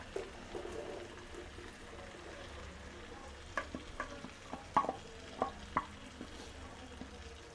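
Two chopped onions are stirred in a pan for butter chicken, with a soft sizzle underneath and a run of sharp spatula clicks and scrapes toward the end, close and fairly quiet.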